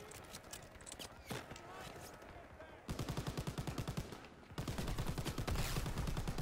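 Rapid machine gun fire in the Call of Duty WW2 campaign mission Ambush, sounding as a fast steady stream of loud shots that grows heavier and denser toward the end, with battle noise around it.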